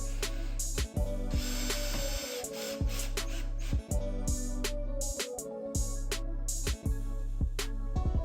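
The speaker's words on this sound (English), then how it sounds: "Secure the mounting plate with the supplied screws." A power drill drives the supplied screws to secure the mounting plate of a Kwikset Powerbolt 2 touchpad keyless deadbolt, a steady loud whir broken by brief pauses between runs.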